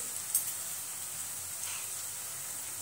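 Green chili, salt and turmeric powder sautéing in a pan for Maharashtrian zhunka, giving a soft, steady sizzle with a faint stir near the start.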